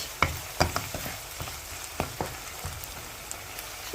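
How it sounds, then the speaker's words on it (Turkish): Onions sizzle softly in a hot pan for a minced meat, leek and spinach dish while a utensil stirs them, giving irregular scraping taps over a steady frying hiss. "Soğanlarımızı 1-2 dakika kadar çevirdik."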